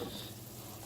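Meat sizzles in a covered pan while spaghetti sauce is being made, a soft, steady crackle at low volume for about a second with no talking.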